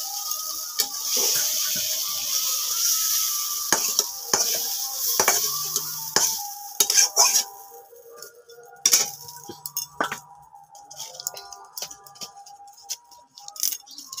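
Vegetables stirred and frying in a pan in a village-style kitchen: a steady sizzle runs throughout, with repeated scraping and clinking strokes of a spoon against the pan at an irregular pace, close and moderately loud.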